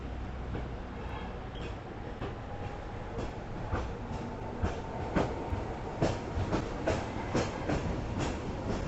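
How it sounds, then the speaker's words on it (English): A funicular tram on Hong Kong's Peak rolls past with rhythmic clacking of wheels over rail joints, growing louder and more distinct as it nears, over a low rumble. "Here comes the tram."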